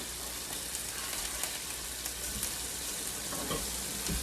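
Turkey burgers fry in a pan with a close, continuous crackling sizzle, dense and even throughout, with occasional sharper pops and no talking.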